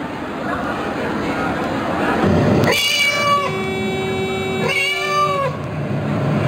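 A human voice mimics a cat's meow during a sound-guessing game in front of an audience, two loud, drawn-out meows rising over steady crowd murmur.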